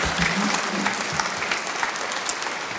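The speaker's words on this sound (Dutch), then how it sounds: "Geef ze een hartelijk applaus." Audience applause at an agricultural policy debate, a steady wash of close clapping that continues through the whole short stretch, with slight crowd murmur underneath.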